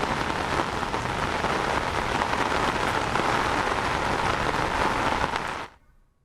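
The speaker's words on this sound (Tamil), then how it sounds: "பெஞ்சல் புயல் எதிரொலியாக கனமழையானது கொட்டி தீர்க்கும் நிலையில்" Heavy cyclone rain from Cyclone Fengal pouring down in Chennai, a loud, dense, continuous downpour hiss that holds steady throughout before cutting off abruptly near the end.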